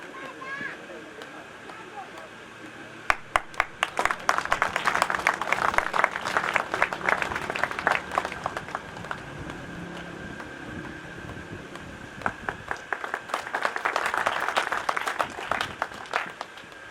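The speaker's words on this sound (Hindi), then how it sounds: "जोर से तालियां बजाएं। आपकी तालियों की गड़गड़ाहट जो रुकना नहीं चाहिए।" A crowd at a Delhi Police driver selection event claps in two waves, scattered claps building into busy applause, then a second burst near the end, with wind noise and voices underneath.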